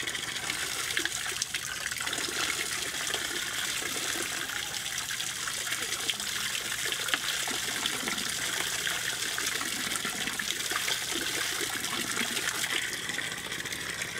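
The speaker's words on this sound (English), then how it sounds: "I'm taking a sample of the treated water that comes out from the facility" Treated water flowing steadily out of a fecal sludge treatment plant, a continuous broadband gush and trickle at close range with no pauses, heard alone without talk.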